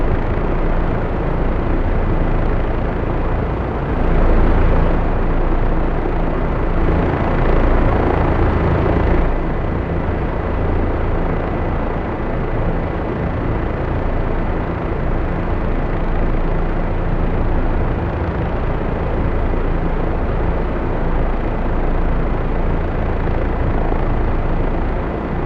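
Turbine engine of an OH-58D helicopter in the DCS game, heard after a cold start as a loud, steady whine and rotor roar that continues without a break, with a faint swell near the start.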